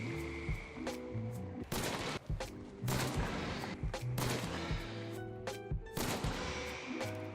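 Gunfire rings out in the Hunt Showdown video game, with repeated loud, sharp shots and bursts spread across the whole stretch, echoing over a busy background and with no talking.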